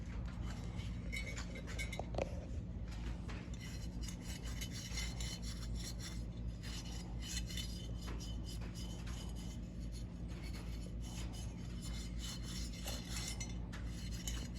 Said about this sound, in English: You just want to scuff it up, kind of darken it a little.